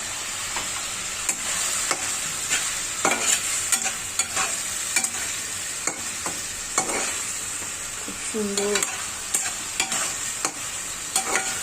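Pre-fried prawns sizzle in a pan of prawn curry (chingri bhuna) while being stirred, with a steady close frying hiss and repeated scraping strokes of the spoon; a voice speaks briefly.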